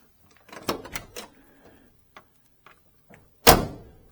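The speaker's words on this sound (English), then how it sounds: "Doors just snap shut nice and tight." Doors on a 1969 Chevelle SS 396 four-speed are worked and shut: several light clicks and latch knocks come first, then a single firm, loud slam near the end.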